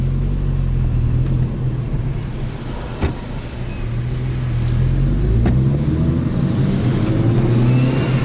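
A VW 2.0T FSI engine fitted with a Frankenturbo F23T turbo on stock software drones steadily from inside the car, a low, even rumble that rises slightly toward the end, with a couple of brief clicks.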